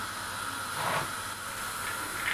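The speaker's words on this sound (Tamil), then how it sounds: "எண்ணெய் சூடு வந்தோடனே 1 டீஸ்பூன் அளவுக்கு பெருஞ்சீரகம் ஆட் பண்ணிக்கலாம்." Fennel seeds sizzle in hot oil in a pan, a steady soft hiss with a brief louder crackle partway through, quiet and close with no talking.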